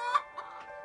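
Hens in an indoor shed housing 2,000 chickens give a few soft, brief clucks close by, two or three quick calls in under a second.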